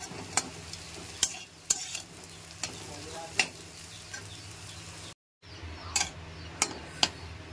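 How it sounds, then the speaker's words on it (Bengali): Bitter gourd and potato slices fry steadily in a pan, a continuous soft sizzle broken by several sharp clinks of a spatula against metal and one brief dropout near the end; no voices. "উচ্ছে আলুগুলো আমার ভাজা হয়ে গেছে, নামিয়ে নেব।"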